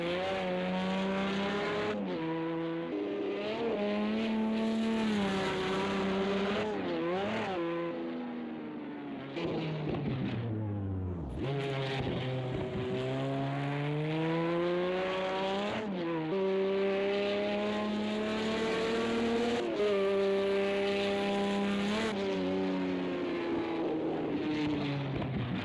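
A Lamborghini Diablo's engine roars continuously through a race lap in Project Cars 2, revving high and dropping through gear shifts with a brief dip on braking, loud and close with no talk.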